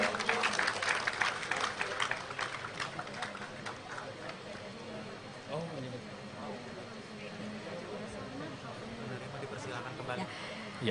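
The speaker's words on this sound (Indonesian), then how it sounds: "Boleh tepuk tangan sekali lagi, hadirin sekalian" Audience at an Indonesian Independence Day flag ceremony applauds the winners, clapping strongest at the start and then thinning, with someone speaking over it throughout.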